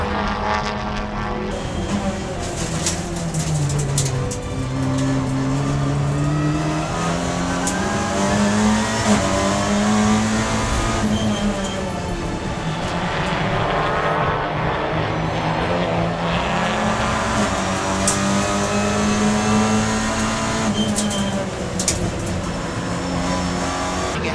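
TCR touring race cars at Brands Hatch, heading toward Paddock Hill Bend, roar continuously nearby, engine pitches rising and falling as several cars run nose to tail, with no talk.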